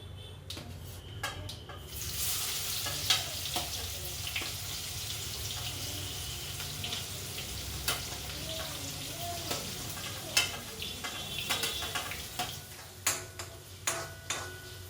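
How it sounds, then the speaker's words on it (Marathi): Finely chopped onion fries in oil with cumin and asafoetida, a dense continuous sizzle broken by repeated spatula scrapes and taps against the pan, close and fairly loud throughout. "आता आपण टाकूया आपला बारीक चिरलेला कांदा।"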